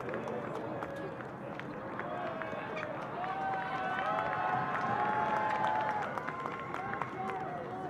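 Spectators at a senior night for boys' soccer players applaud and cheer in a continuous wash of clapping and crowd noise, with faint voices mixed in.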